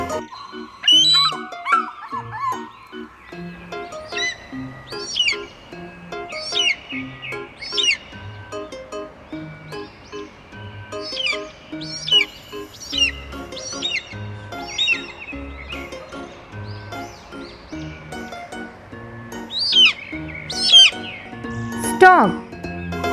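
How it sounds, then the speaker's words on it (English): A sequence of repeated high, piercing eagle calls, sharp and evenly spaced over a soft background, with a voice speaking between some of the cries. "Eagle."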